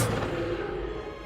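Incendio fire spell cast in Hogwarts Legacy: a sudden whooshing burst that settles into a low, rumbling roar of flame for about a second.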